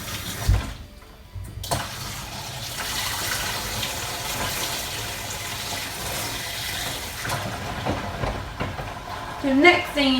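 Tap water gushes steadily into a kitchen sink for several seconds, a continuous broad rush that stops abruptly near the end, with a few faint kitchen clatters around it.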